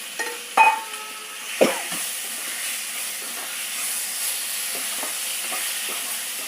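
Eggplant pieces go into a hot pan for a kathirikkai curry, landing with a couple of clattering stirs, followed by a soft, steady frying hiss.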